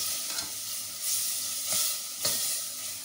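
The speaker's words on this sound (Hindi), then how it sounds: "आपने इसमें हल्का हल्का डालना है दूध और दूसरे हाथ से आपने हिलाते रहना है" Milk being poured gradually into a sauce for chicken lasagna while it is stirred in a pan: a soft continuous sizzle and hiss with periodic swishing stirs, close and without talk.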